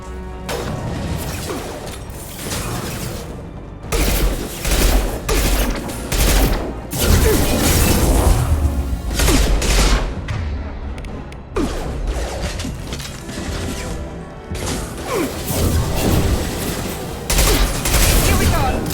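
Dense, sustained gunfire fills a Mass Effect 2 firefight, with continuous volleys, crashes and impacts layered together at high loudness for the whole stretch, and voices occasionally calling out underneath.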